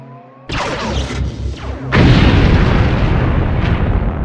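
Ion cannon explosion in a video game, a sudden loud booming blast followed by a second heavier detonation with a long, roaring rumbling tail.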